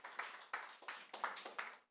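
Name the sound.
congregation applauding in church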